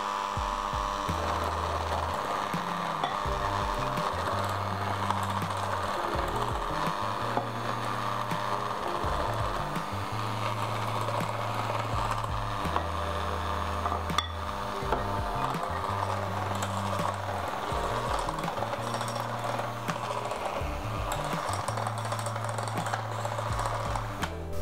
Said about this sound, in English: Keep the mixer on low and add in about half while mixing.